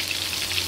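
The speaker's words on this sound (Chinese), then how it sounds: "干辣椒，33颗花椒，一起炒香哈。" Dried chilies and Sichuan peppercorns hit hot oil in a wok with ginger slices and wild scallions, giving a brief, steady, close sizzle and crackle with no talking.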